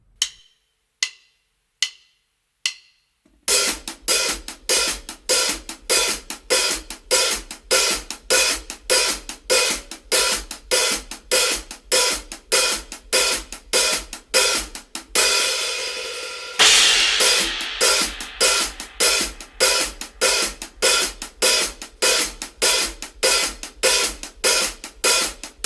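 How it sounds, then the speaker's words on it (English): Drum kit hi-hats play steady 16th notes with a lift on every third note; a few sparse clicks lead in, then a continuous close, bright ticking pattern, with a brief open wash midway. "So we're going to play 16th notes on the hi-hats and then just do a lift every 3rd 16th note."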